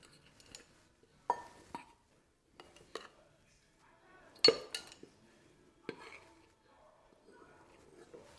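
A small knife clinks against dishes while a chocolate cake batter is mixed in a bread machine, with scattered sharp taps and clinks spaced apart and quiet pauses between them.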